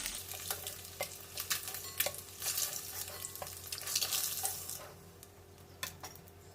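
Boiled eggs fry in turmeric oil with a soft, constant sizzle, punctuated by repeated metallic scrapes and clinks of a spatula turning them in the pan, close and fairly quiet.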